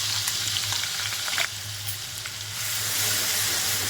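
Coarsely ground mixture for coriander vadi hitting hot oil with asafoetida in a pan, a loud bright sizzle with crackling bursts, a brief stir-scrape midway, then steady frying.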